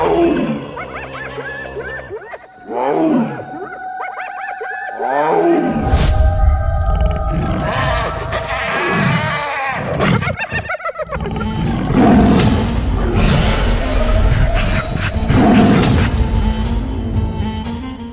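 A tiger and a hyena fight in the Sundarbans forest, with loud, close roars and snarls that surge and overlap, alongside sudden crashes and bursts of growling through the scuffle.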